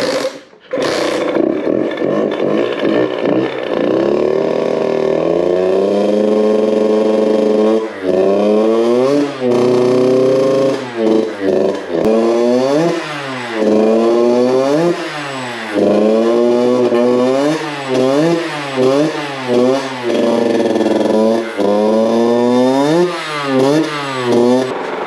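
A Hm 50 CRE Six Competition motorcycle's small engine idles, then revs repeatedly, each blip climbing and dropping back in a steady series of loud, close throttle bursts.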